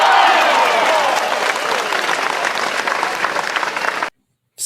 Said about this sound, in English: You should start clapping.